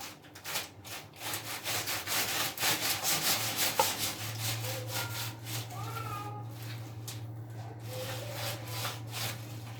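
A knife cuts through food with repeated rough sawing strokes at close range, while a steady low hum runs underneath and people talk quietly.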